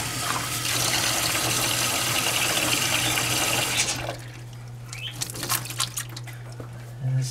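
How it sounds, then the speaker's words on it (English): Running water rinsing shampoo and deep conditioner out of washed hair, a loud steady splashing stream for about four seconds, then softer scattered drips and trickles. "And let's rinse all of that away."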